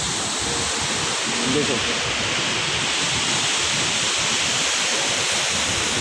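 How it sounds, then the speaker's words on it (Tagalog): A flooded waterfall swollen with floodwater and carrying lots of wood, rushing in a loud, steady roar that fills the whole clip, with someone briefly talking over it. "Oh, itong falls namin guys. Laki na ng baha guys."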